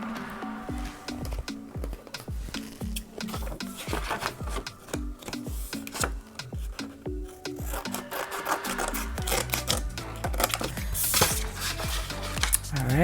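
A sheet of planner paper is cut to size with steady, rapid cutting and rubbing strokes at close range, continuous throughout with no talking.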